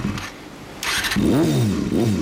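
A 1992 Honda CBR250RR motorcycle with a Daisnin Racing exhaust cranks, catches and starts, then revs in a few rising and falling bursts, close and loud.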